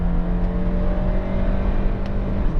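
A Honda Accord 2.4 i-VTEC EX saloon's petrol engine pulls hard under acceleration to overtake, a steady loud drone with a sustained low hum, heard from inside the car with no talk.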